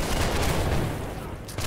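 Musket volley in the Holdfast video game, a dense, loud burst of many overlapping shots that fades out within about a second.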